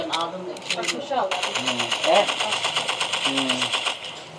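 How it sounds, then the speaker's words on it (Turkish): Rapid automatic gunfire aimed at a tank in a video game, a dense rattling burst that runs steadily through most of the stretch, with talking mixed in over the shooting. "Tankın hassas yerine sıkıyorum"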